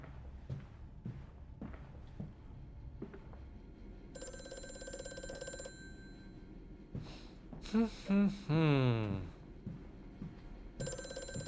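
An old telephone ringing in Amnesia: A Machine For Pigs, bright bell bursts separated by silence, with footsteps and a low descending mechanical groan between rings, fairly close and clear.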